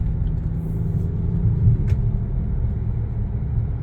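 A garbage truck on a village road in Bulgaria rumbles as a low, steady engine drone, fairly loud and close throughout, with no talking.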